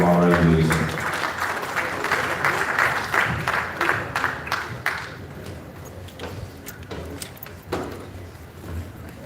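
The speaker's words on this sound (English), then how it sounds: "A round of applause for our regulator." Audience at an industry conference applauds, dense clapping at first that thins into scattered individual claps and fades, with murmured talk underneath.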